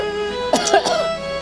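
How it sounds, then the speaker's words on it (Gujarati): A single short throaty cough or throat-clear bursts out close and loud for about half a second, in an otherwise hum-filled quiet room. "ખોટું ઉધરસ કઈ નઈ."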